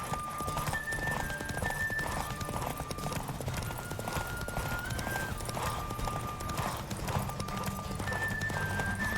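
Hooves gallop in a fast, steady rhythm that runs the whole time in The Witcher 3: Wild Hunt, with an occasional whinny and continuous music underneath.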